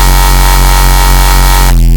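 A hard Zaagkick synthesized in Serum with automation, a loud, dense, distorted buzzing tone sustained for nearly two seconds before abruptly thinning out, heard alone.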